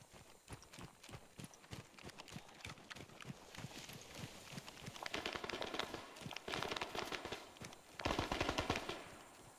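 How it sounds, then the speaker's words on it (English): Rapid bursts of gunfire from the military video game ArmA 3, set in a jungle, crackle in dense volleys throughout, growing louder and heavier toward the end. "Hey, where are we taking fire from?"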